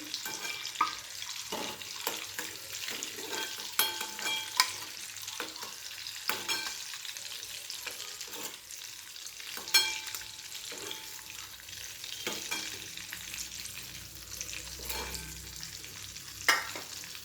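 Boiled eggs sautéing in oil for egg curry, a soft, low sizzle with repeated light scrapes and taps of a spatula against the pan, fairly quiet and unhurried.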